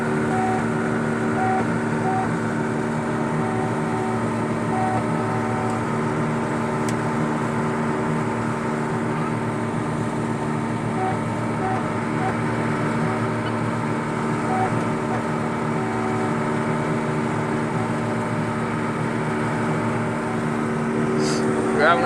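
A combine harvester cutting soybeans runs with a loud, steady engine drone and constant mechanical hum, heard from inside the cab, unchanging throughout without breaks.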